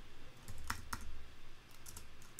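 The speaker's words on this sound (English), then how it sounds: "I'm going to type in" Fingers tap out a few keystrokes on a computer keyboard, producing sparse, light clicks nearby over a faint background hum.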